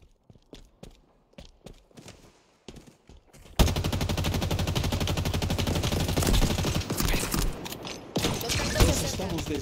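In the shooter Halo Infinite, a few isolated shots crack out, then sustained automatic gunfire erupts and rattles on loudly and steadily with scattered single shots mixed in.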